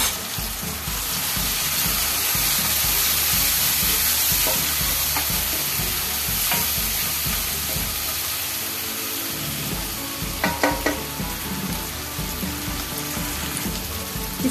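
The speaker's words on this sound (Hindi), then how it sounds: "इसमें डाल रही हूँ मैं हल्दी और अच्छे से मिक्स कर लेंगे।" Dal simmers with turmeric being stirred in, a steady wet bubbling sizzle with soft, repeated spoon strokes and a few sharper taps against the pot near the end.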